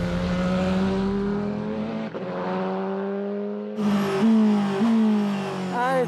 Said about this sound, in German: Alter, das Bremsen, das Beschleunigen!